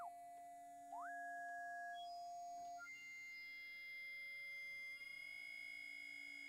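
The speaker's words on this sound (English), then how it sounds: "Turn off all of the detune and sync and stuff like that. There we go, sine wave." Synthesizer with detune and sync switched off, playing a pure sine wave: clean sustained whistling tones that glide up and down between notes over a faint constant hum.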